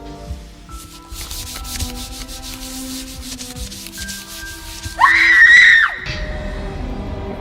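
Scratchy rubbing and scraping noises fill the background, then a sharp, sustained high scream rings out for about a second before cutting off.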